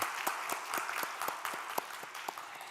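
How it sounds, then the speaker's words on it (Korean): A Sunday church congregation gives welcoming applause to a new member, with many distinct hand claps forming a lively, steady patter that runs throughout. "우리 환영의 박수 부탁드립니다."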